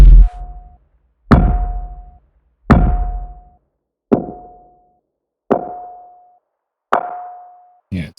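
Kick drum with its resonant bell tone isolated by a band-pass EQ: six evenly spaced hits, each a sharp attack ringing into a sustained pitched tone before decaying to silence, then a seventh clipped hit at the end.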